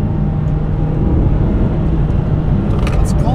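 A Mitsubishi Evo X engine hums steadily from inside the car as it cruises slowly at the speed limit with traction control switched off, a constant loud drone with no talking.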